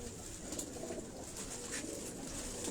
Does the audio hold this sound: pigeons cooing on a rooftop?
yes